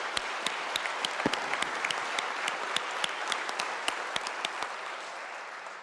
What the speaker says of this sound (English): the House give them a round of applause